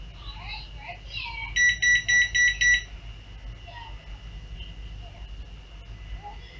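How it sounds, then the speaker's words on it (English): A run of four sharp, loud electronic beeps from a clipping class-D amplifier in quick even succession, standing out over a low background hum with faint voices around it. "when D-class clips, you can hear the noise coming from the amp"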